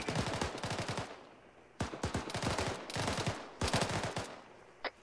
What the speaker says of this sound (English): keep putting suppression fire down